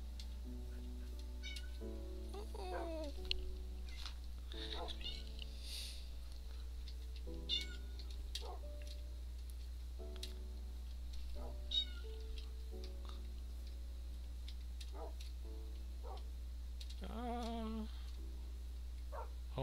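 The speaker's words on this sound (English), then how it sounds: "If you hear that, that's my cat" Cat in a jungle-exploring video game gives several scattered meows, some drawn out and wavering, fairly quiet over a constant low hum.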